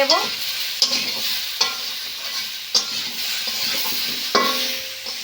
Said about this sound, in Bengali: এবার সব মশলাগুলো সবজির সঙ্গে ভালো করে কষে